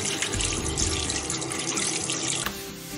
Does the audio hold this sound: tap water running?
yes